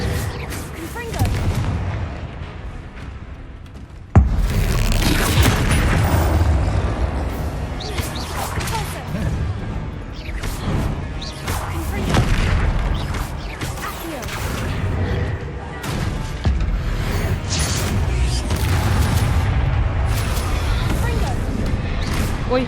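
Confringo fire-blast spells exploding in combat in Hogwarts Legacy on maximum difficulty, a dense run of loud booms, whooshes and crashes, with a voice talking over the action.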